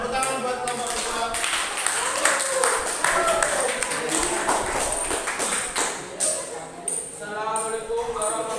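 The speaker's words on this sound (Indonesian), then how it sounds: "Tepuk tangan buat kelompok visual." Participants in a group training session clap their hands for a presenting group, crisp overlapping claps from a small nearby group, with some voices and a faint tone mixed in.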